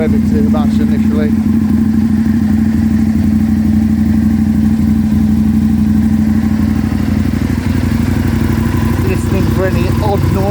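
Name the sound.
Aprilia Tuono 1000R motorcycle engine running after cold start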